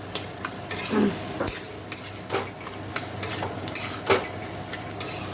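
Sliced potatoes fry with onions in a pan, giving a soft, steady sizzle with scattered utensil scrapes and a few light clinks, fairly quiet and close.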